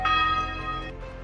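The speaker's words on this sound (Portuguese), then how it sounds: "os sinos da capela, mesmo desligados, badalavam sozinhos." A chapel bell rings out with a bright, sustained metallic tone, its harmonics ringing and slowly decaying, fairly close and alone without voices.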